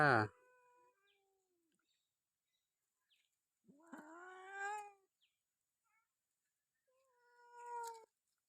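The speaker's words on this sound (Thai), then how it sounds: "จะเหมียวน้อยเหมียวใหญ่ เหมียวรุ่นจิ๋วก็มาค่ะ" Cats at a Buddhist temple in Chae Hom, Lampang meow three times: a short cry at the start, then two longer, drawn-out meows separated by quiet pauses.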